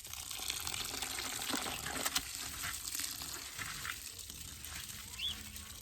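Water poured from a pail onto dry rolled oats in a bucket, a continuous splashing, trickling pour heard close up for several seconds.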